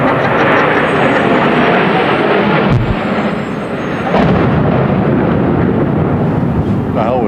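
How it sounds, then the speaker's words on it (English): A plane crashing into a World Trade Center tower, heard as a loud, sustained roaring rumble with a sharp impact-like burst partway through, all in broadband noise. "It sounded like a plane crash"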